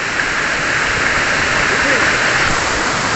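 Waterfall at Panchalingeswar, a loud continuous broadband roar of falling water filling the scene steadily, with faint voices beneath.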